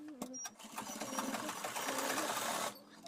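A sewing machine stitching a half pant runs in one steady whirring burst for about two seconds, close and clear, after a few short start-up taps, then stops.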